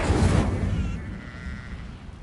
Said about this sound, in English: now I have to go after a goat